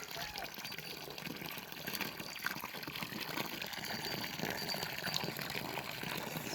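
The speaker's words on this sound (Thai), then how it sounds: "เปิดน้ำให้งัวก่อน" Water gushes steadily from a tap or hose filling a trough for cows on a farm, a continuous broad rushing close by that holds level the whole time, with voices faintly underneath.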